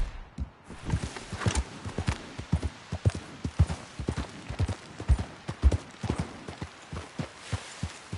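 A horse's hooves clip-clop in a steady walking rhythm under a mare's ride in a PS4 video game, close and distinct, with soft thuds repeating throughout.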